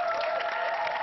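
A studio audience breaks into applause, a brief, continuous wash of many hands clapping that stays fairly faint and even, with a steady tone running beneath it.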